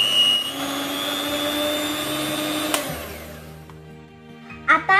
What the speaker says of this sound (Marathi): तेल टाकल्यानंतर पुन्हा एकदा आपल्याला 2 मिनिट फेटून घ्यायचंय